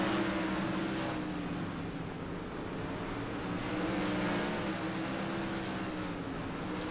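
USAC sprint car engines race around Lanier National Speedway in the iRacing simulator, a steady, dense drone of several cars at high revs that holds without break from start to finish.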